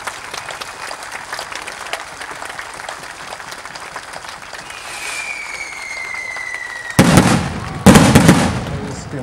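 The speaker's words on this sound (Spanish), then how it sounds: "vamos a darle un aplauso a San Isidro Labrador en este su día." Applause on the feast day of San Isidro Labrador in San Isidro Tepanco: a scattered crowd claps at a distance, then two loud bursts, like fireworks or firecrackers, break out near the end.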